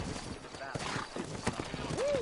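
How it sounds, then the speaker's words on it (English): Horses in the video game Red Dead Redemption clop their hooves in an irregular rhythm, close and moderate in level, with a short whinny near the end under in-game talk. "You ain't gonna find sturdier horses than these in all of New Orleans."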